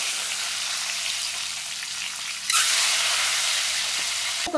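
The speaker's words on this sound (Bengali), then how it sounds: "এখানে খুব বেশি ডিমগুলো আমি ফ্রাই করব না, জাস্ট খালি লাল কালারটা আসার জন্য।" Eggs frying in a wok with turmeric and Kashmiri chilli powder, a steady close sizzle that jumps sharply louder midway as something hits the hot oil, with a brief clatter near the end.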